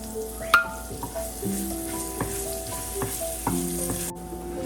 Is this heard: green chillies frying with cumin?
yes